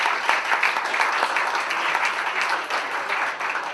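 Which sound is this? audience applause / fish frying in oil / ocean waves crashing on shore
audience applause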